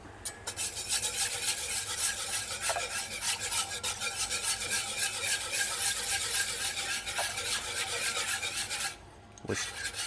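Cream is stirred into a clam sauce in a pan, a continuous close scraping and rubbing over a faint sizzle that breaks off near the end with a brief metallic clink.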